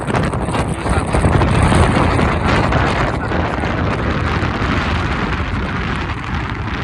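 A motorcycle engine runs loud and continuous while riding, heavily mixed with wind buffeting the microphone throughout.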